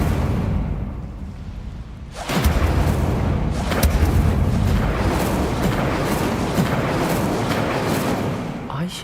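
An Incendiary spell in the video game Hogwarts Legacy erupts with a sudden loud blast about two seconds in, followed by a sustained roaring crackle with repeated sharp pops and bursts that carry on to the end.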